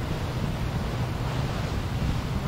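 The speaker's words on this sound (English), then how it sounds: "That's the reason you can hear the ocean." Ocean waves near a harbor in the video game Bus Simulator 18 make a steady, broad wash of surf and wind that stays constant and fairly loud, with no speech.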